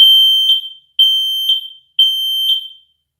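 A smoke detector sounding during a test: three loud, piercing electronic beeps in an even pulsing pattern, close and alone with no talk.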